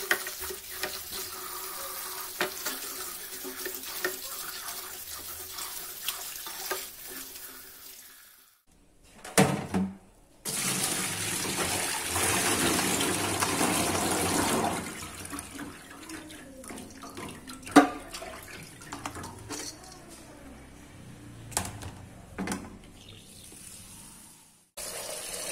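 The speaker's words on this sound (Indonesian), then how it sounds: "Ubi kita bersihkan hingga tidak ada lagi getah yang tersisa pada ubinya." Cassava being washed by hand under a running kitchen tap, a steady stream of water with splashing and sloshing, a brief pause midway, then more vigorous rinsing with occasional knocks, close and continuous.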